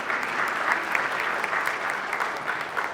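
An awards audience claps for a sheriff's investigator at a regional top cop ceremony, a full, even round of applause that stays loud and dense from start to finish.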